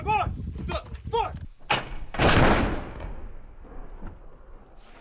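A howitzer fires during artillery training: after a few short spoken commands, a heavy, broadband blast booms out and then rolls away in a long, fading decay.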